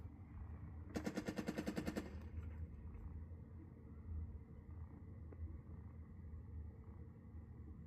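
Machine gun crews fire a sustained rapid burst in the WWII strategy video game Burden of Command, a loud rhythmic rattle of about a dozen shots lasting one second, followed by lingering low rumble and faint scattered background battle noise.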